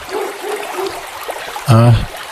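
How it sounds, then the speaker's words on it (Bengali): Cartoon sound effect of a bucket hauling water up from a village well: a brief, loud sloshing gush near the end, after a quiet stretch. "একটা বালতি আছে দেখছি। এটা দিয়ে বরং আমি একটু জল তুলি।"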